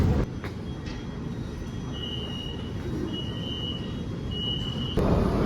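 A steady rumbling MRT train on the Kajang line rolls through with continuous wheel and track noise, broken by several short high-pitched tones and a louder burst at the end.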